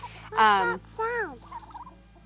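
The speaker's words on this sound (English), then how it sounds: "Chickens and turkeys." Close turkey gobbling: a loud warbling call, a second shorter gobble, then softer trailing clucks fading out.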